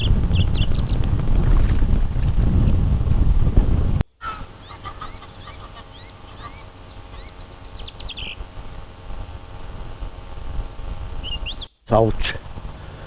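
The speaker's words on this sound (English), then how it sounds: "But the wind is certainly blowing across this lake." Wind blows across a lake, first as loud, gusty buffeting rumble for a few seconds, then easing to a lighter breeze beneath steady insect chirping and occasional bird calls.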